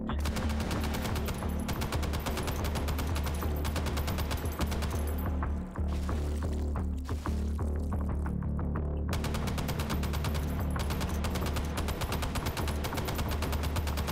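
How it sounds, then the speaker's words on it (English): M60 machine gun firing in the VR game Hot Dogs, Horseshoes & Hand Grenades, dense sustained bursts of rapid automatic gunfire over a constant low hum, with a short break in the middle before firing resumes. "I better conserve my ammunition when I'm firing this, because it runs out pretty fast."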